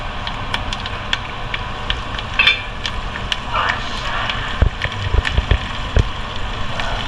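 Tempering sizzles steadily in a pan with coriander added, a continuous close crackle and hiss with scattered small pops throughout.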